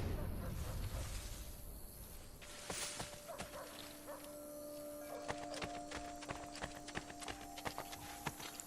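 Horse hooves clip-clopping in the Assassin's Creed Brotherhood video game, a series of sharp, evenly spaced hoof strikes that start faint and grow more regular, over a low ambient game hum.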